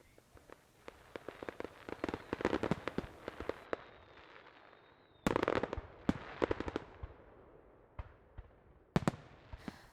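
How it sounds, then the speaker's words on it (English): Fireworks show over the Inner Harbor during a Winterfest celebration: dense volleys of sharp bursts and crackles, a brief lull, then renewed clusters of loud pops and a few isolated late bangs. "The fireworks show at the Inner Harbor is just one of many exciting events that Winterfest is hosting this year."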